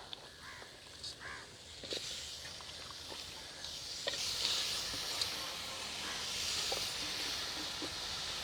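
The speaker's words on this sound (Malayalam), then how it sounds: "നമുക്കിതിക്ക് നമ്മളെ ചിക്കൻ ഇങ്ങനെ ഇട്ട് കൊടുക്കാം കേട്ടോ." About 1.5 kg of chicken hits hot tomato masala in a pan for Karaikudi chicken curry and sizzles. The hiss is steady and broad, with a few faint knocks and a distant bird call.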